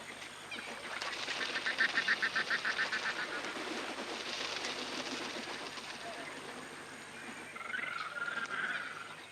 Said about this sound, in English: Thousands of water birds join in a frenzy of feeding and breeding